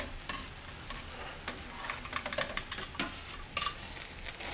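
Fresh tortellini tossed with sauce in a pan produce soft wet stirring and scraping with a light sizzle, punctuated by a few sharper clinks of a utensil against the pan.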